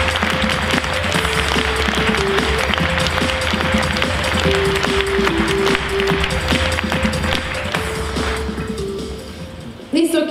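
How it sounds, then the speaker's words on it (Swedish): Warm applause from a conference audience at Webbdagarna 2013 fills the room as a dense, steady wash of clapping over a stepping melodic tune, tapering slightly near the end. "En varm applåd!"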